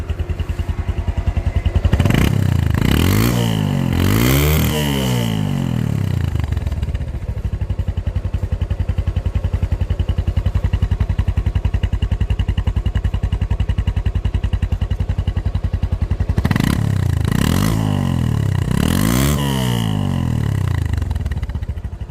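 A Bajaj Discover 135 motorcycle engine idles with a steady, loud, close thump, revved hard twice near the start and twice again near the end, each rev rising and falling back to idle.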